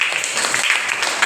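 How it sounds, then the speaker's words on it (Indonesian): Brief scattered applause from a classroom group of students after a drama role-play, a soft patter of hands with some voices mixed in. "Tepuk tangan buat kelompok terakhir."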